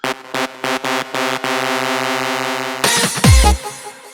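A synth bass without pitch bends plays short, steady-pitched notes, then holds one long tone before a burst of noisy, crashing sound closes it out.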